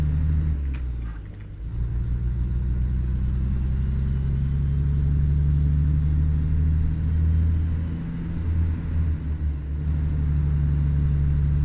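A Mack Cruiseliner truck engine in American Truck Simulator drones at a low, steady idle, loud and close, dipping briefly near the start and again late on, with no voices.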